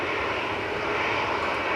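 Broadband engine roar of a Jet2 Airbus A321 airliner at Manchester Airport, a steady loud rushing drone holding throughout without talk.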